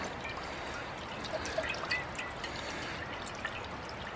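Fresh water pours into a camp cooking pot to rinse it on the trail, a soft, close trickle with faint splashes and drips, fairly quiet and steady for a few seconds.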